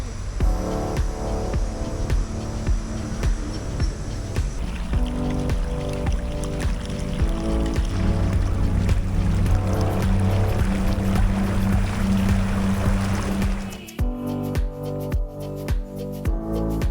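A boat ride in Aveiro, Portugal, heard as a steady, moderately loud motor drone with water wash throughout. A sharp change near the end leaves a quieter, more broken texture.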